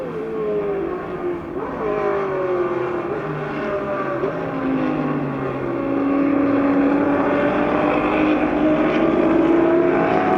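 Shelby and Ferrari race cars battle for the lead at the Sonoma Speed Festival, engines droning loud and continuous with rising and falling pitch as they pass and shift, another car's tone sweeping through the steady roar.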